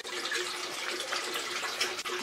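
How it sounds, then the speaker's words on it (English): Water drains from a 125-gallon cichlid aquarium in a steady, close rushing flow with a faint gurgle, continuous and moderately loud with no voices. "we're about 15 minutes into draining the water"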